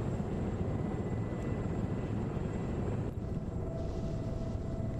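Aircraft engine drone from a tank warfare video game, a steady, dense roar holding throughout at moderate distance, with a faint whine joining in the last seconds.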